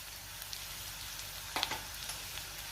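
Vegetables with coriander sauté in a pan, an even soft sizzle with one louder stirring scrape and a few light clicks, no talking.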